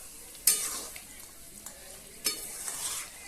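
Chicken curry stirred in a sizzling pan, with two sharp scrapes of the spoon against the pan over a continuous frying hiss.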